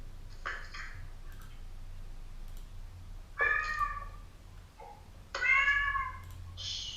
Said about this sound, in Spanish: Hay un gato por ahí que está suelto.